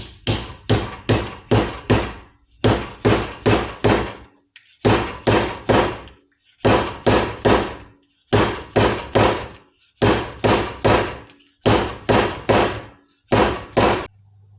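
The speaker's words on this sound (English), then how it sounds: "with our seal driver, which this is the easy part here, slide this over the tube as well, and then just drive the seal in place" A seal driver is slid over the front fork tube of a 1975 Harley-Davidson FLH Shovelhead with a 41mm front end and repeatedly tapped to seat the fork seal. Sharp metallic knocks come in quick bursts of three to four, evenly spaced, close up.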